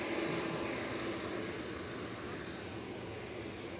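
A British Airways Airbus A321-200 arrives at Manchester Airport, heard as a faint, steady, distant engine rush that eases slightly over a few seconds.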